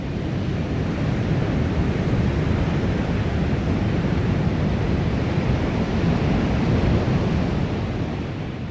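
Waves on the southern shore of Lake Manitoba, a loud continuous roar of surf blended with heavy wind buffeting the microphone, steady throughout with no voices.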